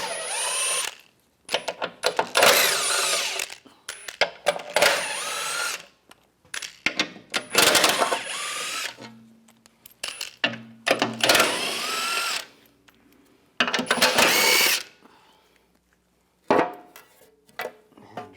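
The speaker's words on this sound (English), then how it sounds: "Take the bolts out." A power tool with a 16mm socket runs in repeated bursts, removing bolts during a thermostat housing job on a 2009-2013 BMW 328i xDrive 3.0L, with short pauses between the loud, close whirring runs.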